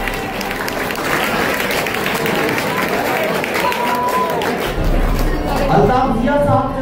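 An audience at an Urdu mushaira applauds as a poet is called to the stage, a sustained burst of clapping mixed with crowd noise and voices.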